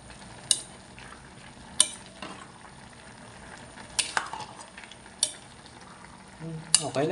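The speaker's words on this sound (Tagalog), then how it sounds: "Nagsasangag muna si mama." Rice sizzling and being stirred in a frying pan for sinangag, with repeated sharp scraping clatters of a utensil against the pan over a steady low frying hiss, plus a louder scrape near the end.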